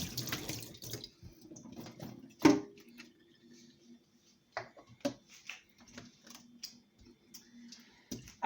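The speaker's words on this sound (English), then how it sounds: "I'm going to rinse off the blender cover." A blender lid rinsed under a kitchen tap: soft running water with a sharp clunk of plastic, then scattered taps and drips, close and quiet.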